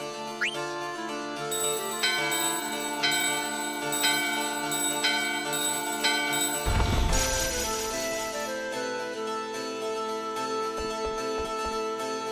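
Bells in Final Fantasy IX ring in slow repeated chimes over a sustained tone, then a sudden bright crash as they shatter, followed by scattered small tinkles and low thuds.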